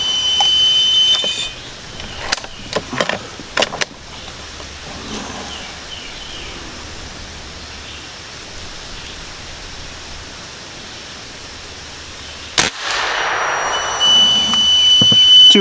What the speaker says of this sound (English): You can hear my tank refilling after 2 shots.